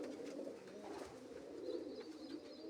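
Soft, low pigeon coos repeat steadily, faint and nearby, with no talking.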